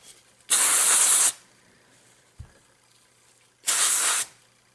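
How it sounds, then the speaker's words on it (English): Two sharp bursts of cleaner spray hiss close by onto a Ruger 10/22 rifle, each lasting under a second, separated by quiet and a small clunk. "Spray it off"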